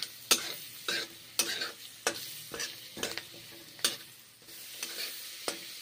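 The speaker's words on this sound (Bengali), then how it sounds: "পেঁয়াজগুলো বাটার দিয়ে ভেজে নিচ্ছি।" Onions frying in butter over a low gas flame, a gentle sizzle broken by regular sharp utensil scrapes and taps about once a second, close and moderately loud, with no speech.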